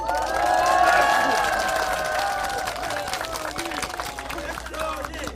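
Audience at a press conference in Yongsan, Seoul, many of them elderly, breaking into applause and cheering that swells quickly, then gradually thins while the clapping carries on.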